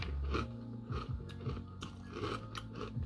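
Close, loud crunching and chewing of Miss Vicky's spicy dill pickle kettle chips, with repeated crisp bites and mouth sounds in a steady rhythm and no talking.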